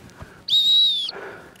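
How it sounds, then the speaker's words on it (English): A dog-training sit whistle gives one sustained, steady, high-pitched blast of about half a second, loud and close, with faint outdoor background before and after. "when I blow a sit whistle up there, he's going to listen"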